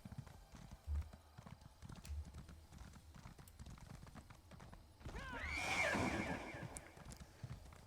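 In Elder Scrolls Online, hooves clip-clop steadily at a walk, then a horse lets out a loud, wavering whinny close by before the hoofbeats continue.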